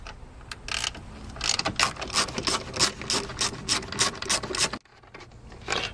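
A ratchet fitted with a 10mm socket removes the tail lamp bolts on a full-size Range Rover, producing a rapid run of close, crisp clicks before a brief stop and a few final ticks.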